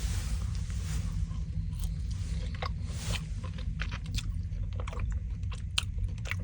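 Someone chews a bite of smoked A5 wagyu steak close to the mic, with soft wet, crunchy chewing over a steady low engine-like hum inside a truck and no talking.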